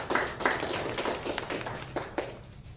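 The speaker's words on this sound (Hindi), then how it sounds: "लेकिन मैं आपके लिए तालियां बजाता हूं" Hands clapping at a press-organised talk on the three new criminal laws, a run of irregular sharp claps of moderate loudness, sounding like a small scattered audience.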